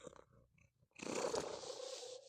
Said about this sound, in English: You're purring so loud.